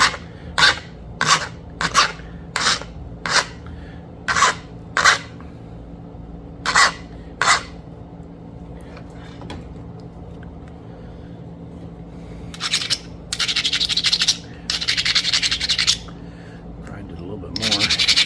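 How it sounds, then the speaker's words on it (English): Flint River chert point being ground at the edge with stone, a run of sharp, evenly spaced rasping strokes close up, followed after a quiet stretch by longer, rougher bursts of abrasive scraping. "Grind it a little bit more."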